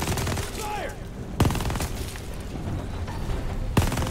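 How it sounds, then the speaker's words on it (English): Mounted turret gunfire in the Call of Duty: Vanguard campaign: sustained bursts of firing with two sharp, heavy shots standing out, over dense game noise and explosions. "I got turret syndrome. Means I shoot uncontrollably."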